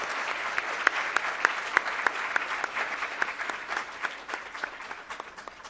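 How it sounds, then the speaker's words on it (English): Conference audience at a university biotechnology department's international event bursts into sustained applause, dense clapping filling the room at a steady loudness with no one speaking over it before gradually thinning toward the end. "let's have a huge round of applause for all those who played a pivotal role in setting up this prestigious"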